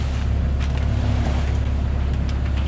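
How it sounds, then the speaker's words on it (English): Sailboat engine running at nearly full power during a rough Gulf Stream crossing from Canada to Bermuda, a loud steady low-pitched drone under wind and water noise, with no talking. "We've got the engine on nearly full power"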